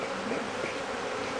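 Agitated honeybees buzz loudly at a freshly opened hive, a brief, dense, close swarm drone with no voices.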